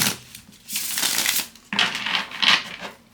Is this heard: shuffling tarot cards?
yes